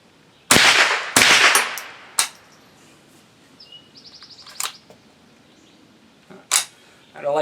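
Sharp, loud .22LR gunshots from a Savage Model 64 semi-automatic rifle, two close together then a third, with a later lone shot and a brief bird chirp between them outdoors.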